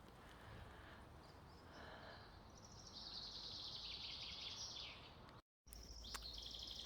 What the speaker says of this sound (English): Can you hear the birds singing their songs?